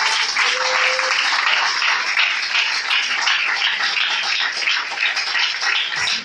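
A church congregation applauding and cheering in praise, dense, continuous and loud clapping for several seconds with voices mixed into the crowd noise.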